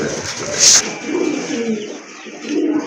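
A pigeon coos softly in a few low, rounded calls at close range. A sharp high chirp comes near the start, and faint voices sit in the background.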